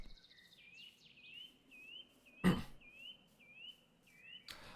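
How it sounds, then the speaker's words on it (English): Birdsong ambience in the Minecraft TerraFirmaGreg modpack: repeated thin chirps and short whistled calls over a quiet background, with two brief loud broadband bursts interrupting. "I do like we get some bird background noises."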